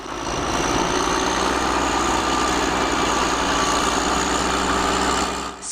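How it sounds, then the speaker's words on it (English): Heavy earth-moving scraper engine running, a loud steady diesel rumble and idle with constant low vibration, holding evenly throughout before dipping slightly at the very end, with no voices present. "Scraper is a heavy equipment machine that is used in large-scale earth-moving and construction projects."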